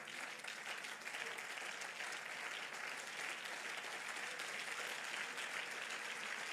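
A church congregation applauds and cheers God in a steady, dense wash of clapping that holds evenly throughout, with faint voices mixed into the crowd noise.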